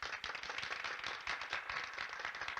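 Faint, quick clapping from a crowd in an animated Voltes V scene, a busy patter of many hands at low volume throughout.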